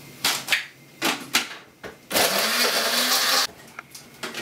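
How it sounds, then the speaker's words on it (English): Kitchen blender grinding stale bread into homemade breadcrumbs for macaroni cheese: a few short clunks and pulses, then a loud steady whirring run of over a second that cuts off abruptly, followed by more clatter. "I'm just going to put it straight into the blender"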